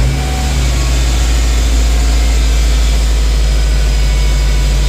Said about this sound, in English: I'm gonna go on ahead and start the car up